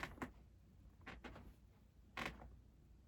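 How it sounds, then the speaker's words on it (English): A chair creaks in several short, faint squeaks and groans, scattered irregularly across a quiet room with no talk. "Listen to my chair."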